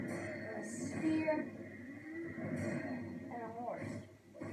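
A horse whinnies in the video game Sekiro over ongoing talk, with a brief clop or two of hooves in the background.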